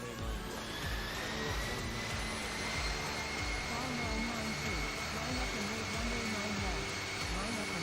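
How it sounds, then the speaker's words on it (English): An airliner's jet engines roar steadily during takeoff in the Infinite Flight simulator, a continuous loud broadband rush with a thin high whine holding throughout. "Let's watch this takeoff then."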